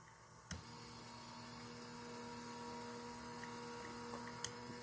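A battery-operated Lionel O scale Conrail maintenance-of-way gantry crane runs its big hook, giving a steady low motor hum throughout with a couple of faint clicks, close and alone.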